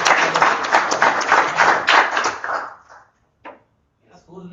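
Audience clapping at a trading course graduation and certificate ceremony, a burst of dense applause that fades out after about three seconds, followed by a couple of brief knocks and faint voices.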